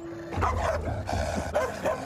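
A farm's mongrel dog in a kennel, giving a series of close, rough barks and yips in an irregular rhythm with no talk.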